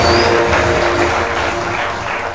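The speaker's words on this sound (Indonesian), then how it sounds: "Tepuk tangan buat kita sekalian." Audience at an indoor talk on diabetes bursts into steady, dense applause, a loud continuous wash of clapping that fades slightly toward the end.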